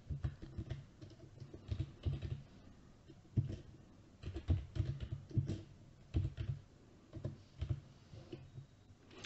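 Rapid typing on a computer keyboard, with irregular bursts of close key clicks and short pauses, runs throughout with no talk.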